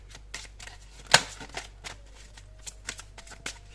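Oracle cards shuffled by hand in short, crisp flicks and slaps, one sharper snap standing out, close and quiet with no talk.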